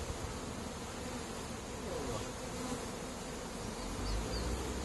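Honey bees swarm and buzz steadily at an open hive being worked, a dense, continuous hum close by with no pauses.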